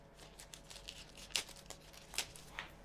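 Plastic bags holding a newly delivered budget wireless headset are rummaged through, giving faint crinkling and a few sharper rustling crackles close by, with no talking.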